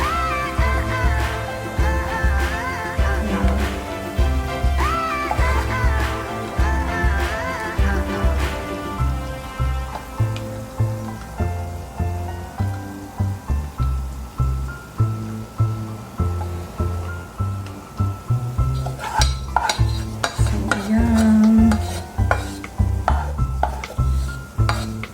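Hot frying oil is poured off fried peanuts through a metal strainer, giving a loud wet rush with clinking and scraping of metal utensils and pan, in repeated pulses that grow busier toward the end.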